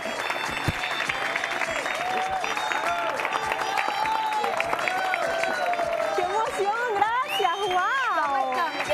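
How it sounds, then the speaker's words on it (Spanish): Steady applause from a studio audience welcoming Mehr Eliezer, Miss Panamá at Miss Universe 2019, on a TV show, filling the whole stretch while voices and a brief musical phrase ride over it. "Vamos a darle un fuerte aplauso para Mer Eliezer"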